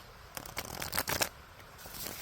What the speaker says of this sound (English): I have been shuffling. This deck it shuffles really nicely as well.